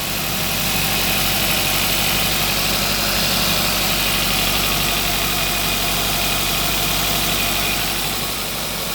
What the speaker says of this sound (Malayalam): വണ്ടിയുടെ എൻജിൻ സൗണ്ട് ക്ലിയർ ആവുന്നുണ്ടെന്ന് ഞാൻ വിചാരിക്കുന്നു